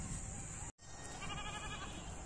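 A mother goat in a village bleats to call her kids, a wavering bleat heard over a steady background hiss, with a brief dropout early on.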